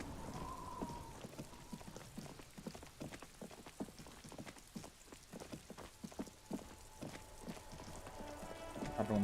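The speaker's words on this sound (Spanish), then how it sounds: "It's raining again." Rain falls steadily in the video game Disco Elysium, a soft constant patter with scattered sharper drips and taps, fairly faint and unbroken, with no voices over it.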